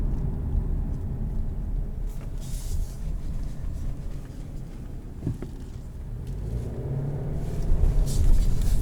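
A 2020 Subaru Legacy driving over a washboard gravel road: a steady, low, rumbling drone from inside the cabin, with faint rattles and bumps running through it.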